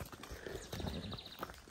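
A champion-bred gaited mare walks with steady, close clip-clopping hoofbeats, a rhythmic series of sharp knocks running throughout.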